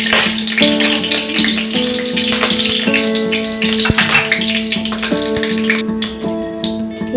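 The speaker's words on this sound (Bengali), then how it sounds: "তেল গরম হয়ে গেছে, কালো জিরেটা দিয়ে দিলাম।" Black cumin seeds hit hot mustard oil and crackle in a constant loud sizzle, with tonal clinks and rattles from the pan running underneath.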